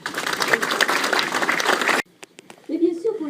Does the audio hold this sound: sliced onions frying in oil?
no